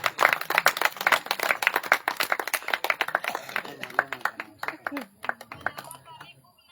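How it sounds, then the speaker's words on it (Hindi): A crowd at a village gram sabha meeting in Khajurgaon, Chandauli, marking Chhatrapati Shahuji Maharaj's 152nd birth anniversary, claps loudly and briskly, then the applause thins out and fades, with voices murmuring beneath it. "तो ईमानदार के लिए जोरदार ताली होनी चाहिए दोस्तों"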